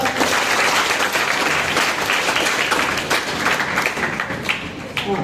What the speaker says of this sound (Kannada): ಒಮ್ಮೆ ಎಲ್ಲರೂ ಜೋರಾಗಿ ಚಪ್ಪಾಳೆ ಕೊಡ್ತೀವ